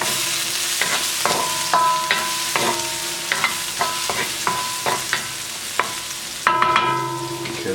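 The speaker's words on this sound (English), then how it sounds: "We're going to let this just cook in with the mushroom before we add our cabbage and our egg and our sauce." Garlic and mushroom frying in a pan for moo shu tofu, a continuous crackling sizzle punctuated by regular metallic stirring clinks and scrapes, close and fairly loud, no talking.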